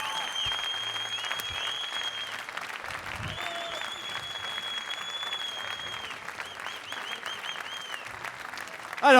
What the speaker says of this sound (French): Allez, encore une tournée d'applaudissements.